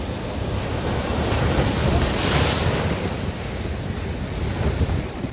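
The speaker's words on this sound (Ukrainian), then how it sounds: "Подивіться на цю стихію, яке наше морічка, як воно хвилюється, як воно виглядає." Stormy sea waves break against the Odesa shore near Fontan in a steady, loud roar of surf, with heavy wind buffeting the microphone throughout.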